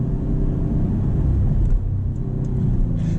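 A 2025 Maserati GranCabrio Trofeo convertible's engine hums steadily at a moderate, even pace while driving, a low continuous rumble with no talking.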